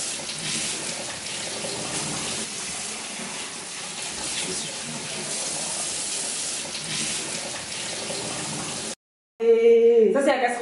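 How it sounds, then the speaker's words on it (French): Tomatoes rinsed under a running kitchen tap, a steady broadband rush of water lasting about nine seconds, then a brief silence and a short burst of other sound at the end. "donc on va nettoyer déjà mes tomates"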